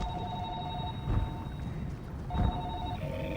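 A telephone rings from a bookshelf in an underwater horror game, two bursts of steady electronic trilling separated by a pause, set against a dull rumbling ambient drone with low thuds.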